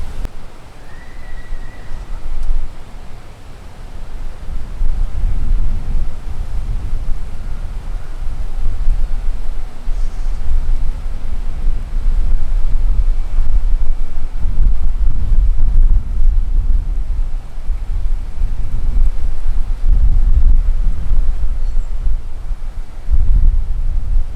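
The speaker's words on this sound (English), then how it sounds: "it's a little windy today" Steady wind gusting and buffeting against a microphone outdoors at Disney's All-Star Movies Resort, a continuous low rumble that swells and eases throughout.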